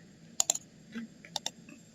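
Ctrl+F pressed on a computer keyboard, heard as a handful of quick, light key clicks in two small clusters, close and fairly quiet with no voices.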